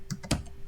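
A few quick keystrokes on a computer keyboard while entering slide text in Microsoft PowerPoint, three close, crisp taps within under a second, the middle one loudest, with no talking.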